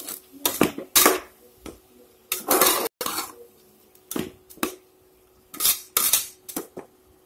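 A spoon clanks and scrapes against a metal pot while soya bean and dal are mixed, coming in irregular bursts of clinks and knocks separated by short quiet pauses.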